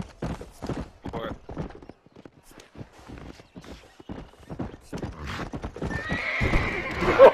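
A horse in the video game Red Dead clip-clops with a run of close hoofbeats, then lets out a loud whinny at the end.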